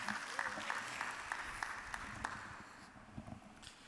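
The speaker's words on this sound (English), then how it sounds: "a louder round of applause for him" Audience applause at a climate and energy forum in Vienna, a steady dense patter of clapping across the hall with a few sharper claps standing out, easing slightly toward the end.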